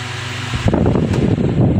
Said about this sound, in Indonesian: Tuh, hidup kan kipas anginnya. Nomor satunya kenceng, nomor 2 lebih kenceng lagi nih.